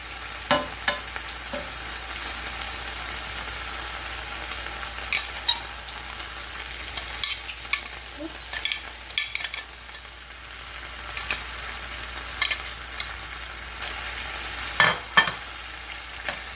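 Onions and peppers frying on a hot griddle for Philly cheesesteak sandwiches, a steady near sizzle punctuated by repeated spatula scrapes and taps, no voices.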